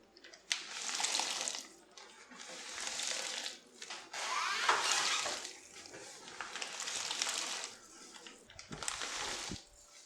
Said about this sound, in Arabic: مباشرة بعد الرص نحط الزيتون بالمي حتى ما يسود ويحافظ على لونه الأخضر.